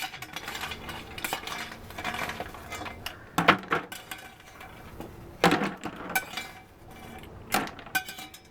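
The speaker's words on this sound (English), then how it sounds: "I'm going to be sure to use a slotted spoon to take those out." A slotted spoon scrapes and clinks against a pot while lifting food out of broth for a backyard paella, giving several sharp metallic knocks among quieter stirring and rattling.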